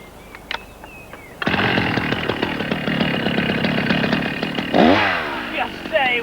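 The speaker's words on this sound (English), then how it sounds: "you're going to cut the disc off this end of the timber" A chainsaw cuts a disc off the end of a timber log in a timed race, the engine snarling loudly and continuously with rising and falling load, then revving out sharply near the end; voices are heard briefly before it starts.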